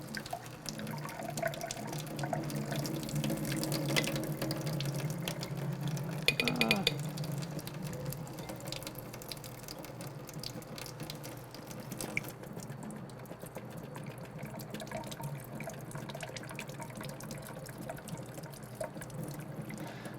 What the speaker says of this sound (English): Turn a little water on here.